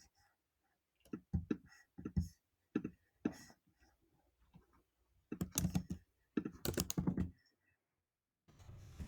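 Bursts of keyboard typing while entering code, clusters of quick clicks separated by pauses, close and fairly quiet, with a short burst of other noise at the end.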